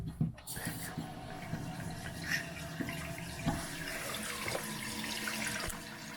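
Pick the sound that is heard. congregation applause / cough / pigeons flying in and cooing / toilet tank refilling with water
toilet tank refilling with water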